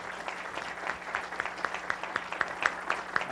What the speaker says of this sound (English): Let's get you up here and give you a round of applause